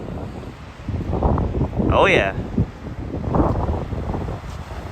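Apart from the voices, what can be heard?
wind on a stormy day at Penzance seafront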